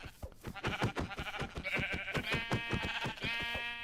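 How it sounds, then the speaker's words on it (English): Blocky sheep in the Minecraft video game bleat over and over in quick, wavering cries, close and loud, with a few bleats overlapping one another and no talking. "All right, let's kill the sheep."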